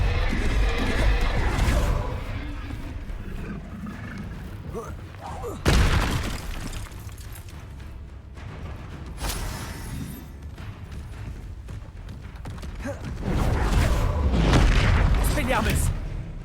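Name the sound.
spells Diffindo and Confringo exploding in Hogwarts Legacy video game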